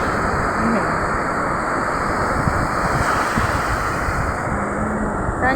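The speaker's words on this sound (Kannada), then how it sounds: "ಅಲೆಗಳ ಶಬ್ದ" Steady surf noise of ocean waves with wind rushing across the microphone, continuous and fairly loud throughout.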